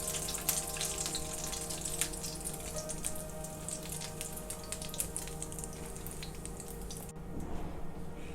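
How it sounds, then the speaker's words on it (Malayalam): Scotch eggs frying in hot oil, a dense continuous sizzle and crackle heard close and fairly loud, fading into a quieter bubbling near the end with no voices. "ഇതുപോലെ നമുക്ക് ബാക്കി ഇരിക്കുന്ന മുട്ടയും ഇതുപോലെ വറുത്തെടുക്കാം"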